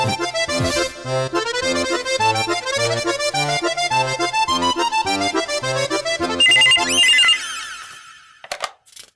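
A phone plays a loud, melodic musical ringtone, a tune with a steady beat that runs for several seconds before shifting to a brighter chiming figure and cutting off, with a couple of short knocks at the very end.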